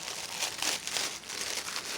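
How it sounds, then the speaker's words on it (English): A plastic bag holding a Nintendo Switch Lite carrying case crinkles in close, busy bursts as it is handled, with steady rustling throughout and no talking. "comes in this plastic bag right here."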